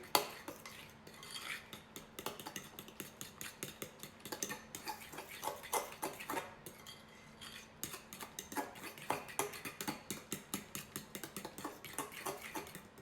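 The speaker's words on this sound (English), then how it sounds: "I'm just going to stir these in with my mixture" A spoon stirring ingredients into banana bread batter in a bowl, a quiet, fast run of steady clinks and scrapes against the bowl, close and soft.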